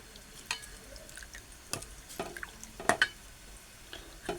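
A turmeric-tinted buttermilk kadhi mixture is stirred in a pot, giving sparse, close spoon clinks and soft liquid sloshes scattered over a quiet background, with no talk.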